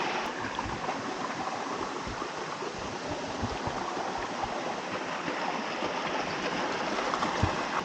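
Steady rushing water fills the scene, a dense continuous roar of a river pouring near a waterfall in the Jura mountains, heard from the riverbed, loud and unbroken throughout.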